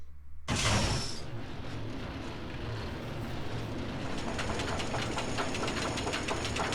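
A kiddie roller coaster in RollerCoaster Tycoon 3 rumbles along its track with a sharp metallic burst at the start, followed by a steady mechanical clattering and rolling noise that keeps going at moderate volume.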